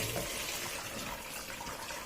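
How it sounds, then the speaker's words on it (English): Peeled beans rinsed in a sifter under a running tap for moi moi, a steady close wash of flowing water with no pauses and no talking. "I'm going to rinse it nice and clean"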